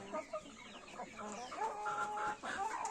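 Several chickens cluck and chatter close by in a steady, busy stream of calls, with a brief human voice in the background.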